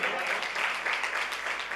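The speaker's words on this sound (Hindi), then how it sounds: "प्रभु है तो तालियों से स्वागत भी होना चाहिए" A congregation at a Christian service bursts into dense, steady applause, a continuous close wash of clapping hands lasting under two seconds.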